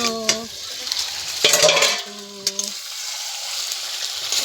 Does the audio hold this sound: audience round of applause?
no